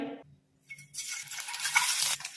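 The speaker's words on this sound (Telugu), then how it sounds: "ఇలా తిప్పుకుంటూ ఫ్రై చేసుకుంటే ఎగ్స్ మంచిగా వేగుతాయి" Boiled eggs scored with small cuts fry and are stirred in a pan with salt and turmeric for a gongura egg biryani, a brief scrape of utensil followed by steady bright sizzling with small clinks.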